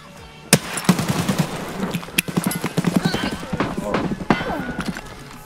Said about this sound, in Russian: В туалетах не надо стрелять.